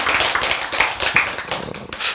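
A lecture audience breaks into applause: a dense patter of hand claps lasting a couple of seconds, fairly loud and close, with no talking.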